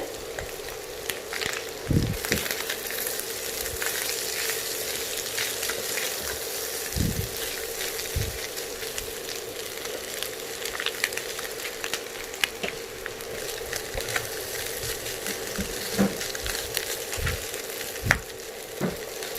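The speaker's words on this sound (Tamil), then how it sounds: "ரைஸை சேர்த்து ஜென்டலாக அப்படியே மிக்ஸ் பண்ணி விடுங்க." Cooked, cooled rice for restaurant-style chicken fried rice is gently stirred and mixed in a hot pan, giving a steady sizzle with soft scraping and occasional clacks of the spatula throughout.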